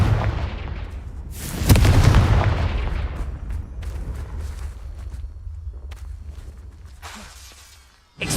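Spell explosions from the Confringo fire curse in Hogwarts Legacy, a loud booming blast near the start followed by scattered crackling impacts and debris hits, with a sharp burst at the very end.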